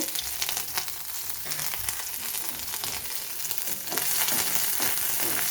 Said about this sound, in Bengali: এইভাবে আমি কিছুক্ষণ আদাটাকে ভেজে নেব